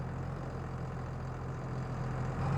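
A tractor engine runs steadily at a low idle in Farming Simulator 22, a continuous deep hum with a faint rise near the end and no talking.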